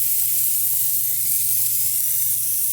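A smashburger patty sizzles on a greased griddle, a loud, steady, bright hiss that holds unbroken from start to finish with no voices over it.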